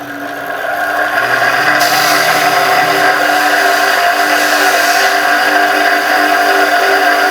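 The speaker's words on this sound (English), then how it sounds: "I'm going to move on to a big buff which will make it nice and shiny" A large buffing wheel polishes a resin and wood ring, spinning up within the first second into a steady, loud whir with a bright tonal hum that holds to the end.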